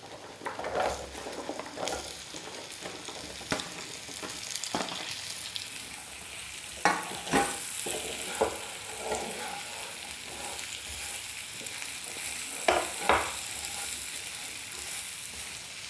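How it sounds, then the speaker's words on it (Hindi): Carrot and radish stir-fried in a pan for pickle, a soft continuous sizzle broken by irregular spoon scrapes and knocks, close by with no talking. "और अब डाल देंगे हम इसमें गाजर और मूली।"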